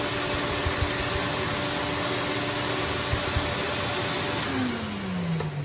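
Electrolux Z Series vacuum cleaner running continuously up close during a fur cleanup test, a loud steady whooshing roar with a falling whine near the end.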